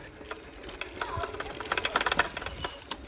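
A secondhand eBike's electric motor runs under throttle, a whirring mechanical buzz with a rapid ticking, knocking pulse that grows louder through the middle and then eases, heard close up.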